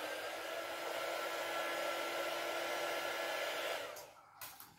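A hair dryer blows steadily and close on an art journal page, a continuous loud whooshing hum that switches off near the end, followed by faint handling sounds.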